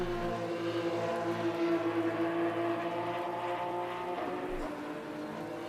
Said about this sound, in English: I hear a revving Porsche in the background.